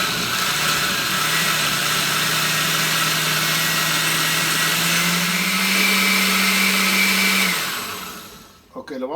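A blender grinds dried chile de árbol into salsa, a loud, steady motor whir lasting several seconds, then winding down and stopping abruptly at the end.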